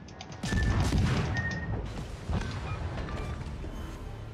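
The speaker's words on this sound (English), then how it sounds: "I took a torpedo because I wasn't paying attention" A torpedo strikes a warship in World of Warships, a heavy crash and boom that swells in, then a second impact burst follows, with mechanical clatter in a continuous loud battle din.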